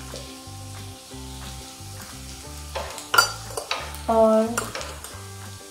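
Spices, turmeric, coriander powder and chillies fry and sizzle in a pan over low gas for sambar, with steady stirring scrapes and a few louder clinks; one brief word is spoken.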